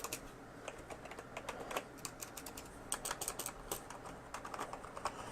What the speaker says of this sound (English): So a lot of keys are very soft. So it's a mechanical keyboard.